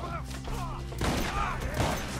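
Gunfire in the Red Dead Redemption 2 video game, a dense burst of shots starting after a second of quieter ambience, loud and close over a steady background hum.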